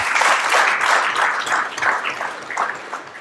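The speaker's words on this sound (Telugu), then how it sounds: "యాక్సెప్ట్ చేస్తే ఒకసారి గట్టి క్లాప్స్ కొట్టండి." A large audience at a sunrise summit gives sustained, loud applause: a dense, steady wash of many hands clapping together, fading slightly toward the end.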